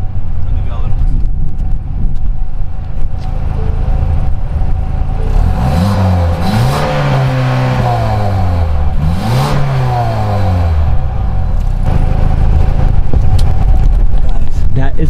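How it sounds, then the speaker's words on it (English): A 2023 Ford Escape ST-Line's 2-liter EcoBoost engine sounds through its exhaust, holding a steady loud drone before two rising revs near the middle that fall back, while someone talks over it. "Guys, that is what that 2-liter sounds like, and that EcoBoost right there from those exhausts."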